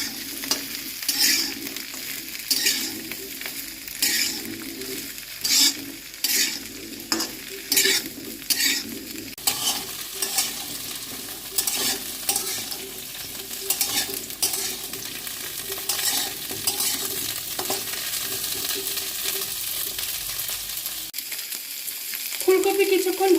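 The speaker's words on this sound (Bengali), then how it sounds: "ভেজে এখন আমি ফুলকপিগুলো দিয়ে দিলাম। ফুলকপিগুলোকেও হালকা করে ভেজে নেব।" Cauliflower florets fry in a pan after carrots, with a continuous sizzle broken by repeated scraping stirs of a spatula against the pan, fairly close, while vegetable dal is prepared; the sizzle drops away abruptly near the end.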